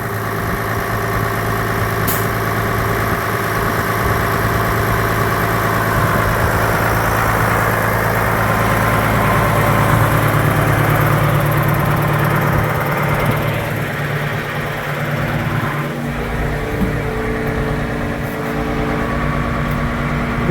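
A diesel engine on a flower picking rig idles steadily throughout, a loud, even low rumble with constant vibration and no voices.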